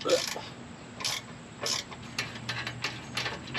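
Ratcheting clicks and metallic tool sounds come in short bursts as a 60 mm winch is unbolted from a rusty Jeep during disassembly, close and fairly quiet.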